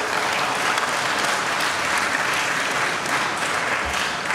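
Morning convocation crowd at Newberry breaks into dense, sustained applause for a few seconds, loud and close, with no speech over it.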